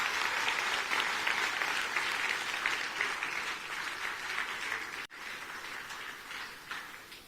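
An audience at a political speech claps in sustained applause, loud and dense, easing slightly before a brief cut and then resuming at a steady level.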